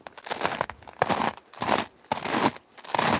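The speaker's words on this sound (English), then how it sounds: "You hear that crunchy sound? That's a good sign that the weather is really cold." Boots crunch on coarse, frozen ice while someone walks in very cold weather, steps coming close together at an even pace, crisp and loud near the listener, with no speech.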